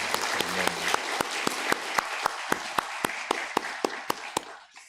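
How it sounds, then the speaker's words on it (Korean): A church congregation applauds loudly, with many hands falling into a steady, rhythmic clap in unison that fades out at the end. "우리 보이지 않지만 늘 도우시는 우리 하나님께 영광의 박수, 찬양의 박수 올려드리겠습니다"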